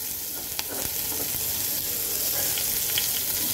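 Onions and black cumin fry in oil left over from frying fish, making a loud, continuous crackling sizzle up close, with faint stirring scrapes and no talking.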